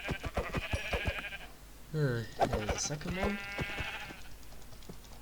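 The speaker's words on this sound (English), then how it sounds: "And I'll save my sword's HP for sheep" Sheep in Minecraft bleat in short wavering calls around the middle, close and clear, while someone talks over the game before and after.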